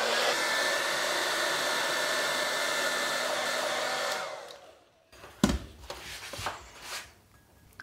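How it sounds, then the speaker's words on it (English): A hairdryer blows loud and steady as hot air is used to lift a laminate benchtop edge strip, then cuts off, leaving brief knocks and handling noises. "let's give the hairdryer a whirl."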